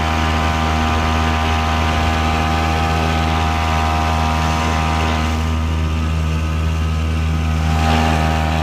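A small motor on an Intex inflatable boat runs loud and close, a steady droning hum with a constant buzzing tone, with no voices over it.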